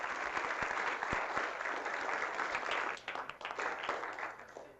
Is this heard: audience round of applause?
yes